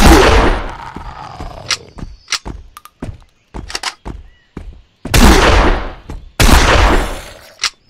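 Repeated gunshots from firearms in the Zompiercer zombie apocalypse game, loud sharp bursts in several separate groups with short gaps between them and no talk over them.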